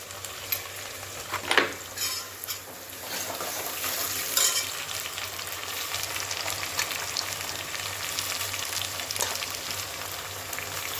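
Chopped tomatoes sauté in oil in a pan for a fish curry, giving a steady broadband sizzle with a few sharp scraping spikes from stirring near the start and one around the middle.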